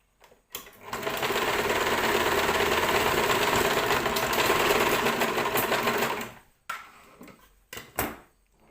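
A sewing machine stitches churidar fabric in one steady, close run of about six seconds, followed by a few short stitching bursts.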